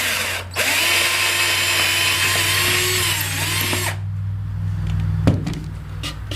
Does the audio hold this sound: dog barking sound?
no